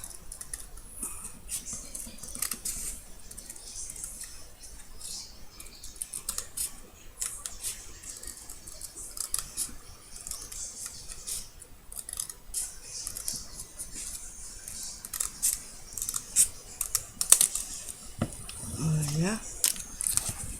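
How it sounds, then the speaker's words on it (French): Scissors cutting paper for an album, a string of small crisp snips and rustles close up over a soft background, with a few faint voice sounds. "Donc je coupe."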